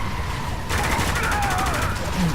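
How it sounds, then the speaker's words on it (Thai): Gunfire from the Spec Ops The Line video game: a steady burst of rapid shots runs under continuous game noise, picking up and growing denser partway through. "ใครเขายิงนักหนา"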